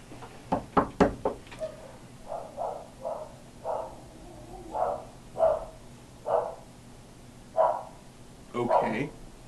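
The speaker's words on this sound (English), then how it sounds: "You heard me knock on the dresser." Several knocks on a wooden dresser, first a quick cluster of sharp raps, then slower scattered thumps, with muffled barking or voice-like sounds mixed in.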